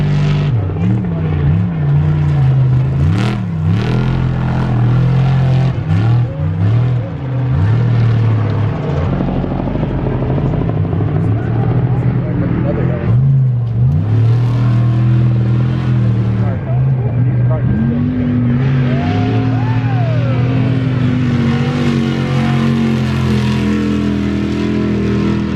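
Off-road race vehicles cornering hard on a dirt track and throwing dirt, their engines revving and droning steadily with pitch swings as they rise and fall, loud and continuous throughout, heard from a distance over the crowd.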